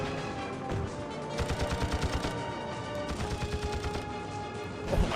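Rapid video-game gunfire cracks out in bursts while the player shoots an enemy from the side at an angle, with tight clusters of shots separated by short pauses and a heavier blast near the end.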